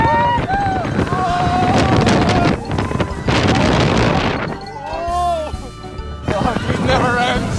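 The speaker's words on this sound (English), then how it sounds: "that was maybe one of the best roller coasters I've ever been in" A roller coaster ride at a European theme park brings loud, continuous rushing wind buffeting the microphone, with riders shouting and whooping over the roar.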